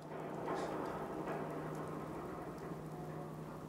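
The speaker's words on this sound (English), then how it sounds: "Okay, now it's raining." Steady rain falls in the video game Fallout 4 as a soft, continuous wash of drops with a low constant hum underneath, fairly quiet, with no voices.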